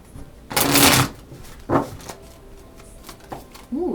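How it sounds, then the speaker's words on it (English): Tarot cards are shuffled by hand in several bursts of riffling and flicking, a long loud burst near the start followed by shorter, quieter shuffles, close to the microphone. "So, we'll give one more shuffle."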